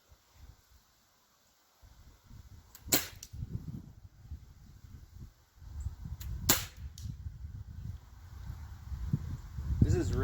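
A Lancer Tactical Cobra 1911 CO2 pistol fires two sharp, close cracks several seconds apart outdoors, with rustling and handling noise between shots.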